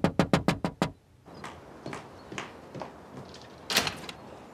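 A door gets a rapid burst of six sharp knocks, then after a pause come fainter clicks and thuds as it is unlatched and opened, with no talking.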